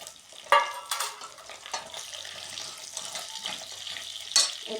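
Onion sizzling in a pan for a beef and vegetable dish, stirred with scraping clatters and clinks of a utensil against the pan at irregular moments over a steady frying hiss, close and moderately loud.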